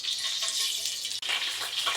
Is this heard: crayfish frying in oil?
yes